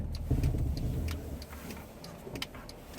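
A Mercedes ML 280 CDI pulls away in drive, a low engine rumble that swells early and then settles, with scattered light ticks and clicks over it.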